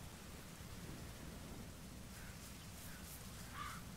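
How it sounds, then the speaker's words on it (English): A video game thunderstorm with lightning and rain plays as a steady wash of rain over a deep, continuous rumble of thunder, with a few faint bird-like calls over the top. "Oh no, lightning strikes!"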